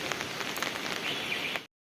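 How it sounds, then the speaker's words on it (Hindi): Heavy monsoon rain falls as a dense, steady hiss with scattered heavier drops and patters, close and constant, before cutting off abruptly; no talk is heard. "देखिए बारिश के हाल बेहाल हो रहे हैं"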